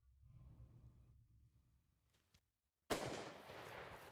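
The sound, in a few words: rifle shot at a water buffalo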